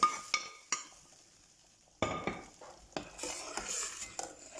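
A spoon stirs yogurt soup with vermicelli in a pot, scraping and clinking against the metal in a few separate bursts with short quiet gaps, close and fairly soft.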